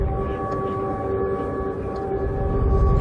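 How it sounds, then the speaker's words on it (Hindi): An air raid siren in Odesa sounds as a steady, sustained tone, fairly distant and partly buried in broad background noise. "शाम होते ही ओडेसा में भी एयर रेड सायरन की आवाजें सुनाई पड़ने लगती हैं।"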